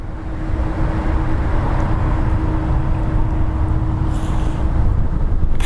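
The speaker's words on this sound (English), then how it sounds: "Powered by the Trent 500 engine, much the same as the 346." An Airbus A340-500 with Rolls-Royce Trent 500 engines departs Heathrow Airport, a loud, continuous, broadband jet roar with a steady low hum that holds throughout and swells slightly toward the end, with no talking.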